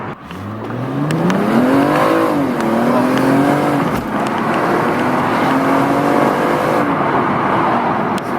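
A BMW M235i with an Optimum Plus tune pulls hard under full acceleration from inside the car, the engine note climbing steadily through the gears in a loud, continuous drone with brief dips at the shifts.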